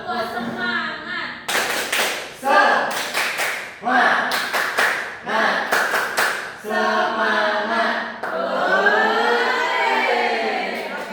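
Children in a primary school classroom perform a rhythmic spirit clapping chant, sharp group claps in patterned bursts alternating with chanted voices, loud and close, ending in a sustained shouted cheer.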